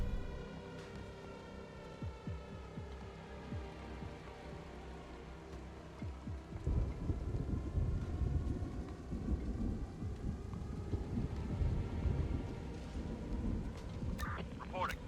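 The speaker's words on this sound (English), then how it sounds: "Ah, there's that gorgeous rain again" Steady rain with rolling thunder in a zombie base-building real-time strategy game, a continuous rumbling downpour that swells louder about halfway through and carries on alone without talk.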